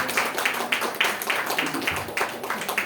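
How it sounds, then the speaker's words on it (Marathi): An audience claps for an honoree at a women's literary conference felicitation, a steady and fairly rhythmic round of clapping from a crowd in a hall. "जोरदार टाळ्यांचा गजर"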